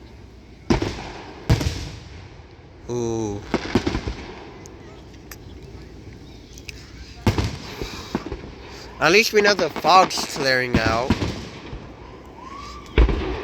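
Fourth of July fireworks burst in a series of sharp booms and crackles, several loud close reports spaced across the stretch with quieter pops between, while people talk and exclaim over them.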